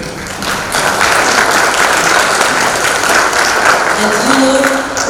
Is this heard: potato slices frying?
no